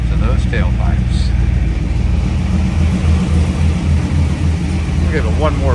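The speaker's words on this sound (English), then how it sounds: "Let's hop out and give a listen to those tailpipes." A 1969 Chevrolet Camaro Z28 RS tribute idles in neutral, its tailpipe exhaust a steady, loud, lumpy low rumble heard close behind the car, with someone speaking briefly over it.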